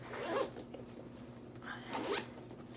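A zipper on a genuine leather wallet with a full zip-around back, card dividers and ID slot, pulled in two short quiet runs with a pause between, close and soft against a faint steady hum.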